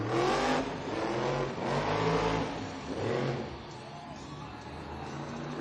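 Megalodon, a monster truck driven by Corey Rummel in a San Diego stadium show, restarts its engine and revs in several loud surging roars, each swelling and dropping back, over a broad crowd-and-arena wash.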